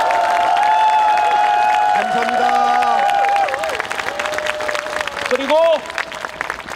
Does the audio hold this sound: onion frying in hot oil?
no